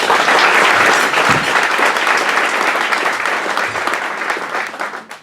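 Audience applause fills a room at a West Seattle Chamber of Commerce awards breakfast, a loud, dense wash of clapping that stays steady and then gradually thins toward the end.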